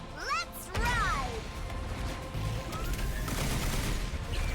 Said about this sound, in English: Missile barrage.